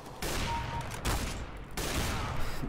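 Gunfire in the video game Counter-Strike: Global Offensive during a deathmatch, with dense overlapping bursts of shots and rapid fire, loud and continuous across the short stretch.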